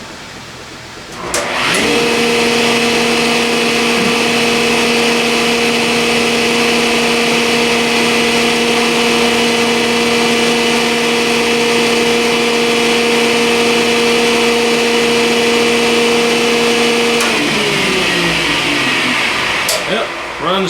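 Refurbished woodworking jointer's electric motor switched on, rising into a loud, steady, smooth hum with a clear tonal whine that runs for about fifteen seconds before spinning down.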